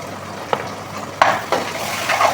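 Tomato paste and butter fry quietly in a pan for a spaghetti dish, a soft sizzle broken by a few scraping stirs of a spoon against the pan.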